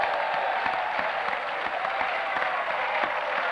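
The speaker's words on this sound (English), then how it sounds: "I think Billy deserves a round of applause for coming in tonight." Studio audience at a 1994 Grand Final football TV show claps steadily and densely for about three and a half seconds, a continuous even wash of applause with no break.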